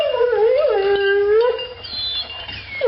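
Pet dog making a close, loud, wavering howl that slides up and down, then trailing into softer high whimpers, with no talking over it.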